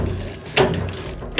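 A Wilwood bearing retainer being bolted onto a muscle car axle housing during a drum-to-disc brake conversion, with a couple of sharp close ratcheting clicks of a wrench against quiet shop background.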